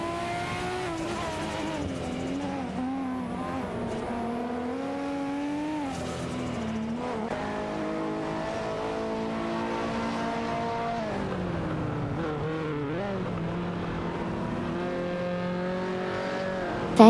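Ferrari 308 GT and Ferrari 512 race cars in a racing video game, engines droning and revving steadily with shifting pitch throughout, dense layered motor tones with occasional tire squeal, no talk.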